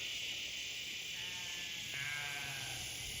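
Sheep on a homestead bleat in a long, wavering cry, then a second bleat follows, both close and loud over a steady high-pitched background hiss.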